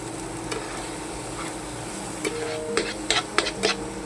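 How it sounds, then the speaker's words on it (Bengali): Masala with tomato puree fries in a pan for egg bhurji, a steady low sizzle broken by several sharp spatula scrapes and knocks against the pan toward the end. "এটা কাঁচা গন্ধটা চলে যাওয়া অবধি আমি এটাকে ভেজে নেব।"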